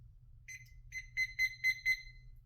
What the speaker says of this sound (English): Okay, 5 minutes on my timer.